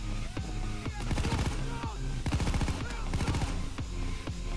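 Rapid bursts of gunfire inside Payday 2 on a Watchdogs pro job at Deathwish difficulty, clustered volleys of sharp shots over a steady bed of game music and effects, with a player talking over the action.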